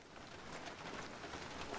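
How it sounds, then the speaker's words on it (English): Steady rain falls in theHunter: Call of the Wild, a continuous broadband hiss of drops on surfaces holding an even, fairly loud level throughout with no talk over it. "So hopefully that rain's not too loud."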